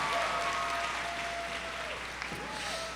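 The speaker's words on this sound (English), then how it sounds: "please join me in applauding the Palm Beach Lakes Community High School class of 2021 one final time" Steady applause from a crowd honoring a graduating high school class at a commencement ceremony, sustained and fairly distant, with a faint voice and a whistle-like tone rising briefly over the clapping.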